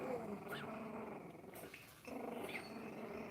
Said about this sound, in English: Somebody's growling.